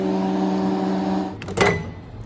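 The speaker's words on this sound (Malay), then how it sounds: "Okay, so dimasukkan lagi dalam microwave, tambahkan lagi dalam 4 minit." A microwave oven hums steadily while cooking corn on the cob, its even drone stopping partway through, followed by a brief clunk and rattle as the door or turntable is handled.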